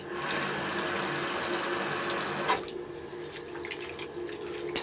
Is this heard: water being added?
yes